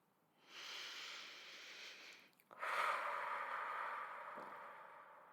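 Two long, deep breaths drawn in close to the mic during a guided breathing and energy exercise, each a steady airy rush lasting a couple of seconds, with a brief pause between them and no talking.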